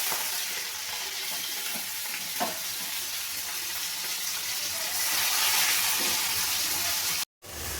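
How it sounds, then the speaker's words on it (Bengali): Prawns sizzle and crackle steadily in hot white oil in a wok, a dense, close frying hiss that swells louder midway and cuts out briefly near the end. "এবার তেলের মধ্যে আমি চিংড়ি মাছগুলো একে একে দিয়ে ভালো করে লাল লাল করে ভেজে নেব।"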